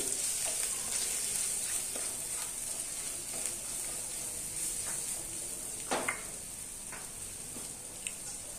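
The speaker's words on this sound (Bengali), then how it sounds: "তারপরে দিচ্ছি হলুদ, দিয়ে একটু আবার ভেজে নিচ্ছি" Turmeric frying in a pan with banana flower gives a soft continuous sizzle, fairly faint, with a few clinks and scrapes of stirring.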